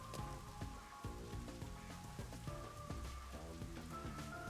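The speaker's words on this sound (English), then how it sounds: "It rains 24/7." Steady rain pours nonstop in a video game scene outside a run-down building under restoration, a dense patter layered with game music and tones, with no talking.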